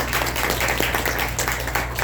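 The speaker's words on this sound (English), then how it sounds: "Let's give another round of applause for our panelists." An audience applauds panelists at a women leaders' panel event; steady, dense clapping fills the short stretch at moderate loudness over a low background hum, with no voices standing out.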